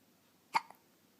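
A young child hiccups once, a single sharp close-up hiccup with a faint little catch just after it, in an otherwise quiet room.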